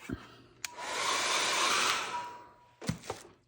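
A hair dryer blows over a layer of paint in mixed-media abstract art, a close steady whooshing hum for about two seconds, with clicks as it switches on and off.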